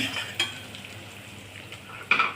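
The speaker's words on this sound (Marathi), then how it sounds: "आता सगळं एकत्र हलवून घेणे." Kofta curry masala stirred in a pan with hing added, giving soft scraping and a low sizzle, with two sharper utensil clinks against the pan.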